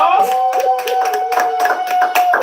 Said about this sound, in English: Clap your hands for Master Jesus